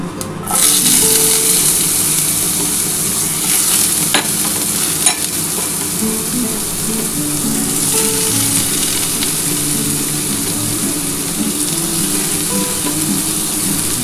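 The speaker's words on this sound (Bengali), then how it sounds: "এটা গরম হয়ে গেছে, এবার আমগুলো আমি দিয়ে দিচ্ছি" Raw green mango pieces sizzle and spit in hot oil for a pickle, a steady loud frying hiss with occasional stirring scrapes and clinks of a utensil against the pan.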